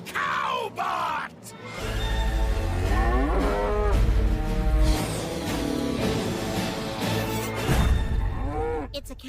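A cartoon robot cow called Cowbot lets out long, loud, groaning moos that swell and fall over a rumbling low background, with a few sharp crashes mixed in.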